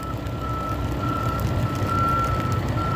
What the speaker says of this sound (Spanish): esos camiones también van a recoger la nieve